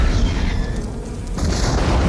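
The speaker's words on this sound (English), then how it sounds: "What an explosion." A large explosion in The Terminator (1984) booms loudly with a dense, rumbling blast that dips briefly in the middle and then swells again, with no voices over it.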